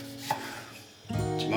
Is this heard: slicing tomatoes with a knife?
yes